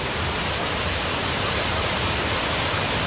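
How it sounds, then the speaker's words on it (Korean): Broad, steady roar of Kuang Si waterfall near Luang Prabang, Laos, dense and constant with no pauses, loud and close. "폭포입니다. 황시폭포."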